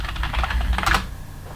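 A password being typed on a computer keyboard, with a quick run of soft, close key clicks lasting under two seconds over a steady faint background.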